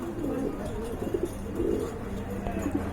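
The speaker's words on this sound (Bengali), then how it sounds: "এই যে দেখেন বন্ধুরা কি কবুতর এগুলো" Pigeons coo softly in low, rolling calls, repeating a few times over a murmur of background noise, close but fairly quiet.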